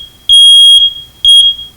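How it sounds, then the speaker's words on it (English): Household smoke alarm sounding during a test, two loud piercing high-pitched beeps, the first longer than the second, very close with no talk. "Remember, have your parents test your smoke alarms at least twice a year. It needs to make this noise."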